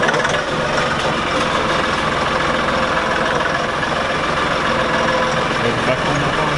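An LS XR3135 tractor engine idles just after being restarted, giving a steady, close, rumbling drone with an even mechanical chatter and no change in pace.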